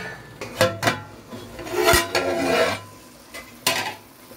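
Metal cooking pot of vegetable mushroom biryani handled on a switched-off stove, with a few sharp clanks and scraping metal contacts as the lid goes on, close and moderately loud.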